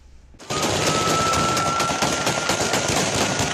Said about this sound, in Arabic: لم يكتفي المحتفلون بمشط أو اثنين في الهواء من مسدس صغير فاحتفلوا هكذا